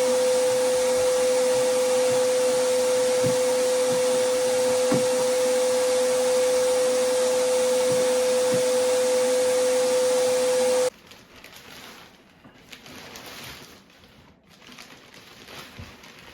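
A vacuum cleaner sucks up mouse mess and dead black mold, roaring loud and steady with a strong tonal whine, then cuts off abruptly, leaving only faint room noise.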